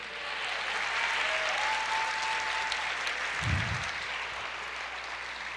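A church congregation applauds during a Portuguese-language sermon, a broad sustained wash of clapping at moderate level, with a faint tone and a brief low thump partway through.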